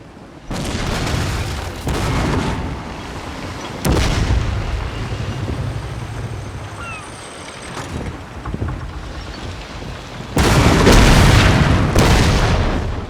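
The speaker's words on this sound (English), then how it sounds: "The sound of the rigging, sails billowing, cannons." Heavy naval cannon blasts from the video game Napoleon: Total War boom in separate bursts, some closely spaced, over a constant rumble of wind, creaking rigging and billowing sails, with distant thuds between the louder volleys.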